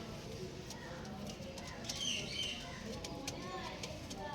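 Kalanka pigeons coo softly in a loft, a few low murmuring calls with brief chirps and wing flutters over a steady background hum.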